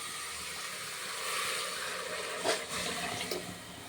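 Water splashes and streams steadily into a pot of rice for ghee rice, a soft rushing pour with a few louder splashes midway, no talking.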